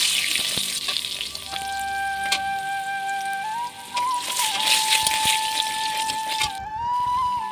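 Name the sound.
frying potatoes in a pan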